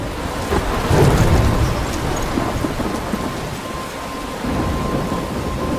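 Thunderstorm with steady heavy rain in the video game Life Is Strange, a low rumble of thunder swelling early and then rolling on beneath a constant loud wash of rainfall, with no voices.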